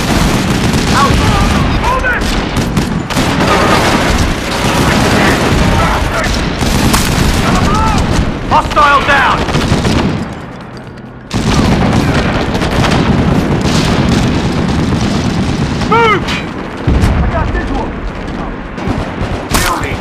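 Grenade blasts and rapid gunfire in the tactical shooter video game SOCOM 4, loud and dense for nearly the whole stretch, with a brief lull midway before the battle noise resumes.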